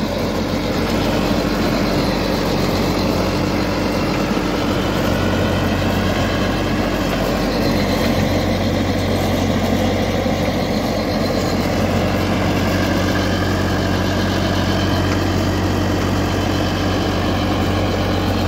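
A Farmtrac 6055 tractor engine idles in a village, a loud, steady low rumble that holds constant throughout with no talk.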